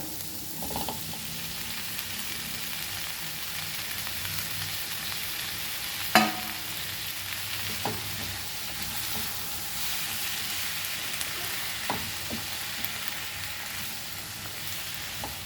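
Tomatoes going into a pan for Goan tomato salad bhaji, giving a sizzling, frying hiss with a few sharp clatters and stirring scrapes, no talking.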